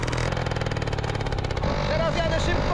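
A Motorynka moped engine buzzes and revs hard as it rides fast on ice, a loud rasping drone that shifts pitch near the end, with someone talking over it.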